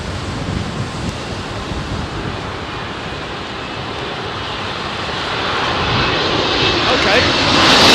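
A Qatar Airways airliner approaches to land at Heathrow in a crosswind, its steady engine roar blended with wind noise, growing louder and closer toward the end; voices are present.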